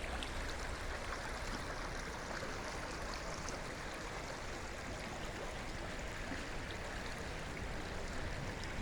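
Lizard Creek in Carbon County, Pennsylvania, near where it joins the Lehigh River, flows with a steady, broadband rushing wash that holds constant throughout, with no voices over it.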